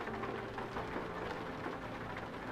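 Steady rain falling in Euro Truck Simulator, a dense, even hiss of drops pattering on the truck, moderately loud and constant with no talk.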